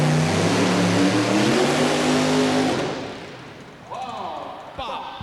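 A single engine pulling tractor at the 1989 National Farm Machinery Show tractor pull roars loudly for several seconds, then fades away, leaving crowd noise and an announcer's voice over a loudspeaker.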